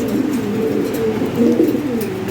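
Fancy pigeons for sale coo steadily and close up, a low throaty burbling that swells and falls throughout, with no talking.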